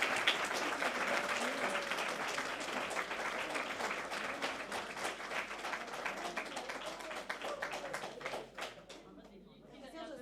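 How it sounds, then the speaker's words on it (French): A group applauds Dave Marchand with dense, steady clapping that ends in a few separate claps, with voices chattering underneath. "une bonne main d'applaudissements pour Dave Marchand"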